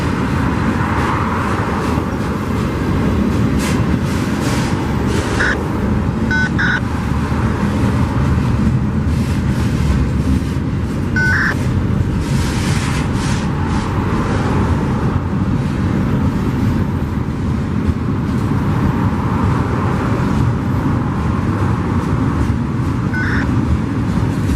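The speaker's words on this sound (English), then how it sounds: "Reefer unit running." A freight train passes with a JB Hunt refrigerated container whose reefer unit runs, giving a continuous loud rumble and droning hum, with faint squeals and clanks from the railcars.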